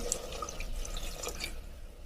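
Water from a tumbler is poured into a clay pot of sautéed eggplant curry on the stove, giving a soft, close, steady splashing trickle with a few drips, alone and fairly quiet.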